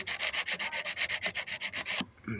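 Rapid, even back-and-forth strokes of a grinder smooth down the ends of an RV awning rail, loud and close, in about a dozen rhythmic passes that stop abruptly.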